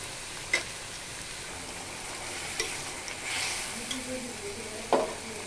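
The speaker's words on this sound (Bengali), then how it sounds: "পাশে করলা ভাজি করতেছি করলাটাকে সুন্দর করে নেড়ে নেব" Sliced bitter gourd fries in a pan with a continuous soft sizzle, punctuated by a few scraping stirs of a spatula against the metal, close and fairly quiet.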